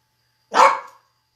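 A single sharp dog bark rings out alone against silence, short and fairly close.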